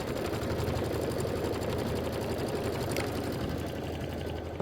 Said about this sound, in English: We're gonna stitch the stripe 1 placement line